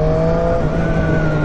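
A Triumph Street Triple RS motorcycle engine in Sport mode pulls hard under acceleration, giving a loud, close, steady tonal howl over a short burst with no talking.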